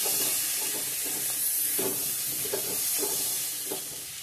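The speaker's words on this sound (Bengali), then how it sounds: "হলুদ, ভালো করে ভেজে নেব।" Spices with salt and turmeric frying in a pan for an egg curry, a constant hissing sizzle with a few soft stirring scrapes.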